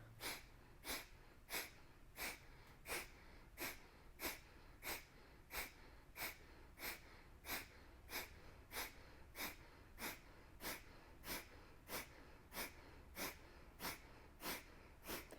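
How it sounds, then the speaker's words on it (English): Kapalabhati breathing during a vinyasa yoga practice: a steady, rapid series of sharp, forceful exhales through the nose, evenly spaced, close and clear, continuing without pause. "We're going to do a Kapalabhati style of breathing. 50 count."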